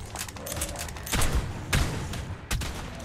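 Gunfire during a multiplayer survival session in ARK: a few sharp shots ring out over a dense, steady background of game noise, with one louder crack near the start and another toward the end.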